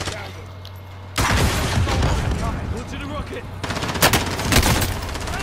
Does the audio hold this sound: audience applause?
no